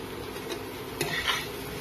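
Spices and taro stirred in a pan for a home-style curry, with faint close clinks and scrapes of a spoon against metal over a low sizzle.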